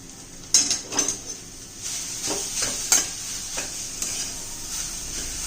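Grated potato stirred into rice flour dough in a bowl, giving a few soft, close scraping and squelching strokes with faint clinks, then a low steady background hiss.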